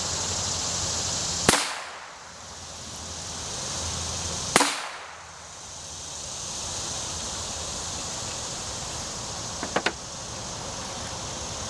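Two sharp, loud gunshots from a .22 Long Rifle pistol fired into a hot water heater, widely spaced with quiet decay between, then a few faint light clicks near the end.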